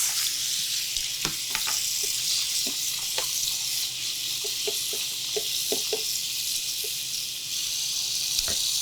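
Green beans rinsed under running water, a steady hiss of flowing water with scattered light taps and rattles of the beans, close and continuous.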